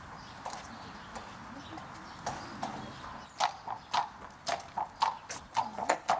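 Horse hooves clip-clop at a steady walking rhythm, close and crisp, with about a dozen even strikes after a quieter stretch of faint scattered steps; the horse is lame in the left hind leg.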